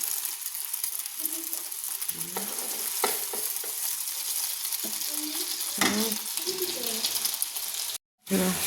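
A spoon stirs khichuri with added spices in a pot, producing a steady scraping, sizzling texture up close, while someone speaks over the cooking.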